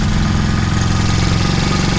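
A motorized fat-tire beach cruiser bicycle's small engine idles while warming up on a beach, a loud, steady, close-up putter with a fast even pulse and no talking.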